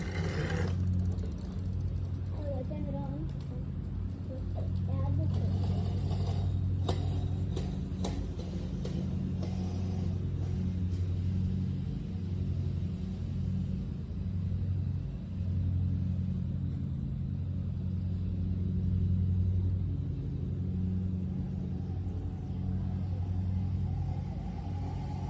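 Dirt bike engine drifting on dirt, a steady low rumbling drone with mechanical rattle holding constant and close for a long stretch, no speech over it.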